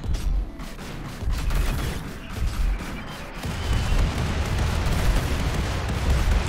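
Gunfire in the modded colony game Rimworld comes as a dense, rolling barrage of close shots and booms that swells and continues for the whole stretch, with no voices.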